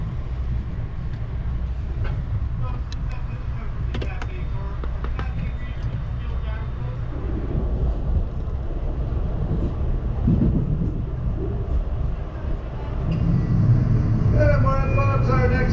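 Amtrak Cascades passenger train heard from inside a carriage, a steady low rumble of the ride with occasional clacks and squeaks, under a person's voice speaking.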